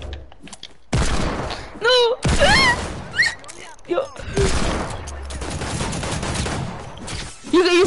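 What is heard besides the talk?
gunfire in a video game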